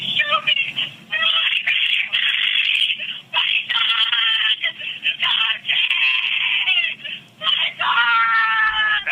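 A woman screams repeatedly during her arrest at the house, shrill sustained wails and cries in long bursts with brief gaps, loud and close in a rough recording.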